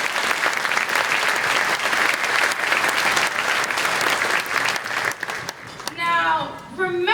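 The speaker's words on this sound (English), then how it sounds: "Can we please have another round of applause for him?" Audience at a children's advocacy breakfast gives a sustained round of applause, dense and loud for about six seconds, then thins out as a voice begins speaking over the last claps.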